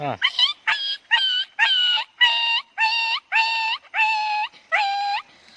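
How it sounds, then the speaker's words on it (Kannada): A dog howls in a long series of drawn-out, wavering cries, about ten in a row with short breaths between, fairly close and clear. "ಅವಾಗ ಒಂದು ನಾಯಿ ಕೂಗಿದಂದ್ರೆ"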